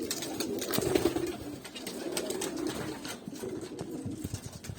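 Pigeons cooing softly and repeatedly in an enclosed space, several birds overlapping with faint rustling between the calls.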